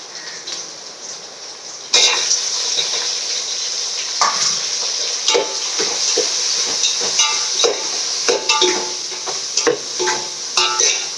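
Tomatoes go into a pan of golden fried onions, bringing a loud continuous sizzle with frequent metallic scrapes and clinks of a spoon against the pan.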